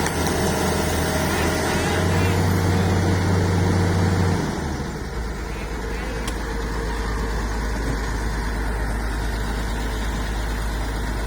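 A Hitachi ZX200 excavator's diesel engine runs steadily at close range, with a low, even rumble and a tonal hum that shifts and settles to a lower idle partway through. No voices are heard.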